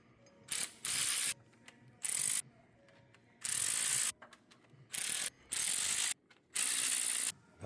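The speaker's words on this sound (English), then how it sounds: "We're not torquing, we're just running the bolts down." A ratchet runs down head bolts on a Chevy SS Impala engine during a coolant-in-oil repair, with six or seven rapid clicking bursts, close and loud, separated by short pauses.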